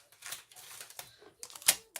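Metal cutting die tapped sharply against a surface to knock out paper die-cut bits, a handful of irregular close clicks and knocks, one louder crack near the end.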